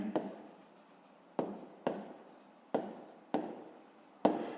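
Handwriting on paper in a maths exercise, six separate scratchy pen strokes, each with a sharp onset fading out, close and quiet with no talking.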